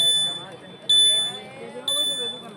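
A shrill electronic buzzer sounds in repeated bursts during a floodlit kabaddi match, signalling the final four minutes, with a commentator talking over the crowd noise.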